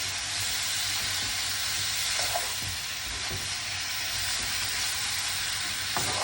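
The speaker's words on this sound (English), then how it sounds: "And you stir fry a little bit until, not too long anyway." Pineapple fried rice with vegetables sizzles steadily in a hot pan, a continuous even frying hiss with a few faint scrapes and knocks of stirring, no voices.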